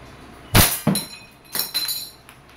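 A WE airsoft 1911 Classic Type A gas pistol is test-fired nearby: several sharp, metallic snapping shots, sometimes paired, with brief ringing tails between them.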